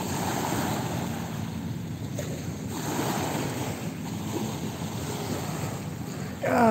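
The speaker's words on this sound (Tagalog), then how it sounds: "Malakas na yung alon." Strong waves at Manila Bay by Dolomite Beach in the evening, a continuous rushing surf mixed with wind buffeting the microphone, steady and fairly loud, with a brief sharper sound at the end.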